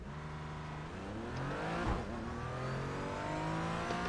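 A car engine lapping a circuit in a racing simulator, revving steadily through the gears with a sustained, loud drone and rising pitch sweeps, no one speaking.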